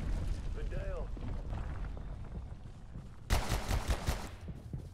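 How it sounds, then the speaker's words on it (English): An automated turret in Abiotic Factor fires on the player, a sudden dense burst of rapid shots in the second half, loud and close after a quieter stretch of game ambience with a brief voice. "Oh god, it's a turret."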